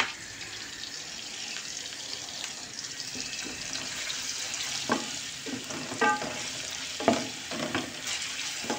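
Chicken legs simmer in a pan of water with a steady bubbling sizzle and occasional stirring clatters, close and continuous, with no voices.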